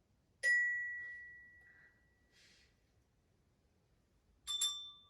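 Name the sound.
pin dropping on a table, imitated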